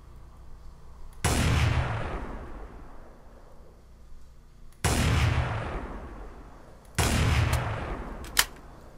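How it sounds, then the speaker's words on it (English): Three loud sniper rifle shots from a Minecraft gun mod, each a sudden heavy boom with a long decaying tail, spaced a few seconds apart with no talking. "Alright, that's a sniper rifle."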